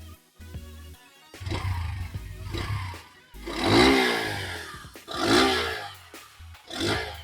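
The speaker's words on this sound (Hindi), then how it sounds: "अभी इसको थोड़ा रेव दे के देखते हैं हम लोग।" A Bajaj Pulsar N125 motorcycle engine idles, then is revved several times in quick bursts, each rising to a roar and dropping back.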